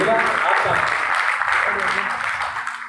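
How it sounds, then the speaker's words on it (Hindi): An audience at a poetry event claps in a steady, full wash of applause that holds for a few seconds, with a voice audible underneath. "तालियां थोड़ी बड़ी कर दीजिएगा आपका"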